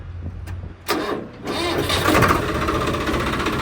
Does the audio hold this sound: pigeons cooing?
no